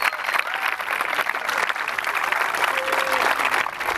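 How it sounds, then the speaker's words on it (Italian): Sustained applause from a crowd at a school sports day opening ceremony, a dense, even clapping that fills the whole moment, with faint voices mixed in. "Un applauso a tutti quanti."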